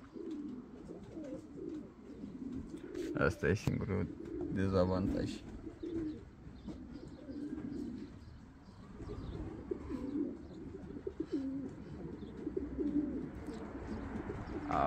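Pigeons coo repeatedly in low throaty rolls, close by, while someone speaks briefly and other birds chirp in the background.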